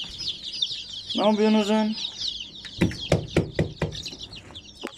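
Chickens and chicks in a coop cluck and cheep throughout, with a drawn-out call early on and a rapid run of sharp clucks later; someone speaks briefly over them.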